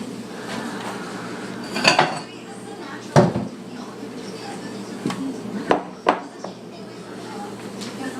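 Kitchen dishes clatter and clink as a bowl is pulled out, with several sharp knocks of ceramic and metal amid light rummaging and a person talking.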